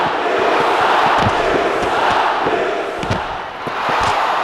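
A stadium crowd roars in a dense, continuous wash of cheering and shouting, loud and sustained with brief dips and a few sharp bursts, in a faction-warfare war-games event at a stadium in Bellerive.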